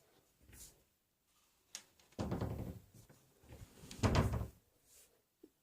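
A drawer in a room being opened and handled, heard as a few separate close wooden slides and knocks spread over several seconds, with quiet gaps between them.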